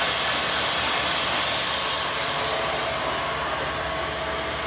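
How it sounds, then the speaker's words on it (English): A three-axis CNC machine mills a full part for a Harmony vertical-axis wind turbine, giving off a steady, loud broadband whir and hiss that holds constant, with no talking. "it's machined that whole piece out by itself"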